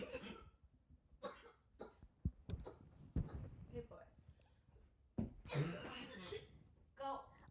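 Several sharp coughs and throat-clearing bursts from a person, scattered across a casual conversation with laughter and chuckling mixed in, fairly close and moderately loud.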